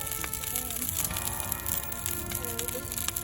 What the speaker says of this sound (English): it's snap, crackle, popping now.